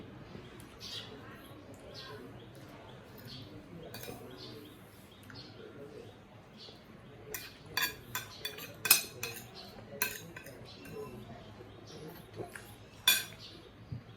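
Clear soup with radish is ladled into bowls, with soft scraping and then a run of sharp, close clinks of dishes and cutlery, irregular and bright, over faint background murmur.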